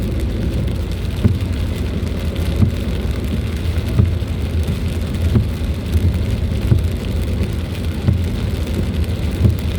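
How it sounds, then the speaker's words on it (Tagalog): Steady light rain during a typhoon road trip on the STAR Tollway patters close by with a constant hiss, small drops ticking sharply on a surface throughout, no voices. "Mahina lang yung ulan guys"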